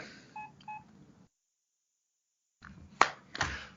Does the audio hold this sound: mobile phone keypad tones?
yes